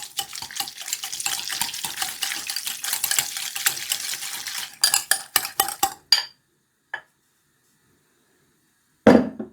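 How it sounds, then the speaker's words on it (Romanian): A spoon whisks a creamy dressing of Korean chili flakes, sugar and sesame seeds in a bowl, giving a steady wet scraping that breaks into a few sharp clinks against the side before falling quiet. "Amestecă bine până obții un sos cremos și omogen"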